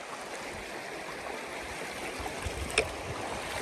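Eagle Creek flows in a steady, soft rushing wash on a desert trail crossing, its water murmuring continuously at low level with a faint brief click near the end.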